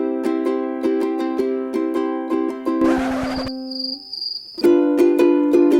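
Plucked ukulele chords strummed in a stop-start rhythm, with an awkward pause and a brief scratchy strum midway before the chords resume.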